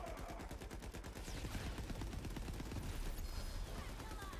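Rapid automatic gunfire from a powerful gun in Borderlands 3, a fast steady stream of loud shots lasting the whole few seconds.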